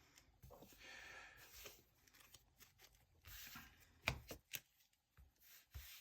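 Yu-Gi-Oh trading cards from a Blue-Eyes deck being shuffled by hand: soft, irregular papery riffling bursts, with a few sharper snapping slaps near the end, close and fairly quiet, with no talking.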